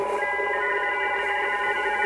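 Radioteletype (RTTY) digital radio signal heard over a receiver: steady warbling two-tone shifting carrier held continuously throughout, fairly loud with a faint hiss underneath.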